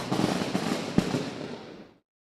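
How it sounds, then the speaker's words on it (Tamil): A chain of firecrackers bursts at a cricket match in a dense, continuous crackling rattle with one sharper bang midway, loud and steady for about two seconds before stopping abruptly. "சரவெட்டி பட்டாசோட ஆரம்பிச்சிருக்காங்க"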